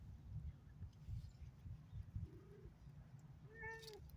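Near the end a cat lets out one soft, short meow, preceded by a fainter brief call, all over a steady low outdoor rumble and with no one talking.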